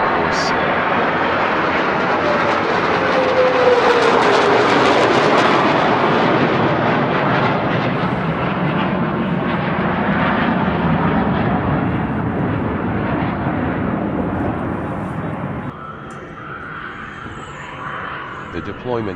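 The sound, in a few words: F-22 Raptor jet aircraft flying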